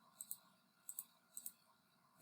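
Keys pressed on a graphing calculator while entering values into a list: three pairs of soft, close plastic clicks at a steady pace in a quiet room.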